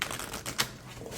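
Quick, rapid riffling of a thin, flexible deck of oracle cards being shuffled, a brief burst of soft papery flicks and clicks, close and fairly quiet.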